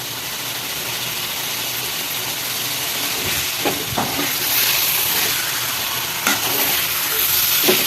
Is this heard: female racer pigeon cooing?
no